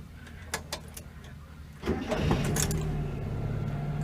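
A 1975 Mitsubishi Colt 1400 Delica minibus with a manual choke cranks briefly, then catches and settles into a steady idle, close and clear inside the cab after a few soft clicks.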